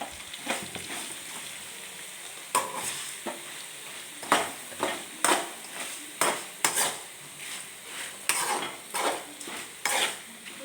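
Sliced bitter gourd sizzles in a pan with chili powder and salt while a spatula scrapes through it in repeated rhythmic strokes, each pass a crisp close clatter over the frying hiss.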